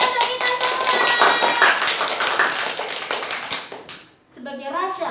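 A classroom group claps together during a teacher training lesson at an Indonesian Islamic institute, a sustained burst of hand claps that fades briefly before voices pick up again.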